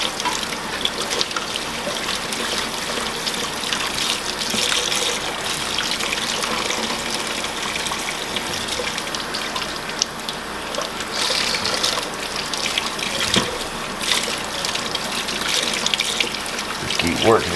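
Tap water runs steadily through a green luffa being squeezed and worked under the faucet, a continuous splashing gush with faint trickles, close and fairly loud throughout.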